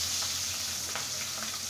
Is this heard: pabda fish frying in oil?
yes